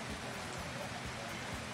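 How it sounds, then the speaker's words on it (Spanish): Heavy rain pours down in Montevideo, a steady, fairly soft hiss of drops beating on surfaces with no break and no voices. "se largó la lluvia"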